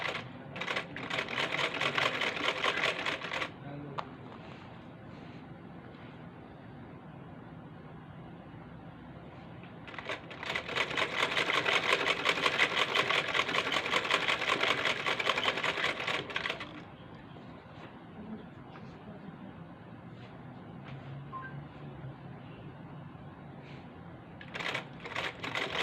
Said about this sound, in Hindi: ऊपर हमने सिलाई लगाते जाना है। यूं इसको सीधा करते जाना है और हल्के हाथों से सीते जाना है